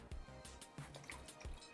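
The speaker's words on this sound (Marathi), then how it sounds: "आता यात मी थोडंसं पाणी घालते" A little water poured into a pot of drumstick soup being made with tamarind and jaggery, heard as soft, close drips and small splashes repeating in a loose rhythm, faint and without talk.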